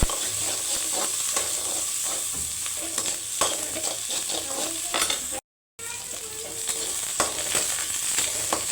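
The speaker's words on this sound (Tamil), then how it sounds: "நல்லா வதக்கிக்கலாம்" Onion and chilli being sautéed and stirred in a pan for beetroot poriyal, with a steady broadband sizzle and repeated scraping stirs throughout, close and fairly loud, with one brief dropout midway.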